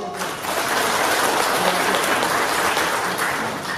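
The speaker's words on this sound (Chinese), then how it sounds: "咱我来给你一个掌声。" A room of temple association members at a meeting in a Tainan temple breaking into dense, sustained applause that swells quickly and holds steady for a few seconds.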